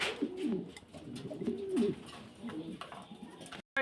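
Mundian pigeons on a farm give soft, throaty coos, several overlapping calls rising and falling close by, before a brief cut to silence at the very end.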